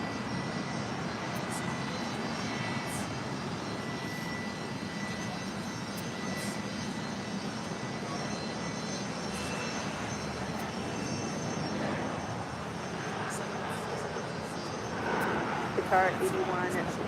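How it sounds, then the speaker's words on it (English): Qatar Cargo Boeing 777 taxiing at LAX on its way to the runway, a steady low jet engine rumble that holds throughout under a person talking and radio voices. "It's the big Q Qatar Cargo 777 heading to Chicago O'Hare"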